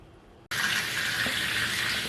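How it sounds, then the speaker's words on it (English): Water from a bath, used for hand-washing fleece, suddenly starts rushing after a short quiet moment, then keeps up a steady, close gushing flow with no one speaking. "Empty the bath."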